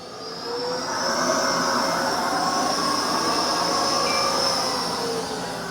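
A Narwal Freo Z10 Ultra robot vacuum in super powerful mode ramps up to a loud, close roar with a high, gliding motor whine, holds steady, then eases slightly at the end, alone.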